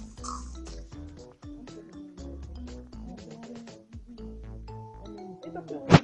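A pig oinking in the Minecraft video game, repeated grunts over busy game sounds and background music, with a sharp louder burst at the very end.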